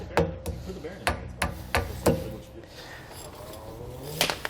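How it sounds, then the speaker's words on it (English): Metallic hammer taps ring out in a steady series, tapping down a cotter pin on a trailer disc brake, about seven sharp strikes, close by with a brief pause before a final cluster. "May need to take a hammer just to tap it down a little bit."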